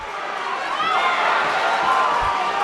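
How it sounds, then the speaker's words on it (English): Boxing crowd cheering during a bout between Mark Deluca and Salim Larbi, a sustained arena roar of many voices urging a fighter on, steady and moderately loud with faint thumps underneath. "Crowd really urging Deluca on."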